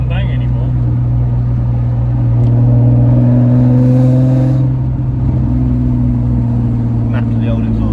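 A Nissan 350Z with a freshly fitted Agency exhaust runs steadily and swells in a rev partway through, a loud droning engine note with low harmonics while people talk over it.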